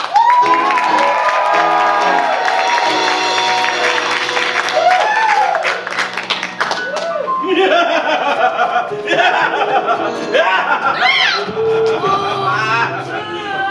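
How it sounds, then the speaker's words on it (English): Panto audience at a Jack and the Beanstalk performance cheering, clapping and laughing, a dense continuous crowd roar with voices and whoops throughout, loud and close. "Please shout and cheer for everyone presenting Jack and the Beanstalk"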